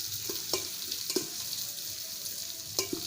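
Carrots, peas and crushed ginger sizzle steadily in a pan for vegetarian Bengali khichuri, with a few sharp scrapes and knocks of a spoon stirring through the hiss.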